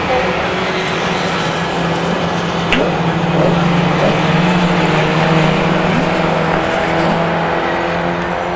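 Autograss racing cars at St Neots roar around a dirt oval as a steady, loud engine drone with a passing swell midway, while a commentator talks over the noise.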